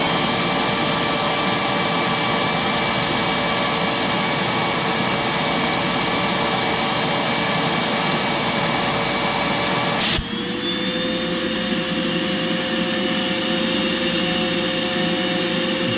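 A Rubbermaid PH12 vacuum cleaner runs with a loud, steady roar during an airflow test at the end of the wand. The motor note shifts abruptly midway to a slightly different, equally constant whine. No voices are heard.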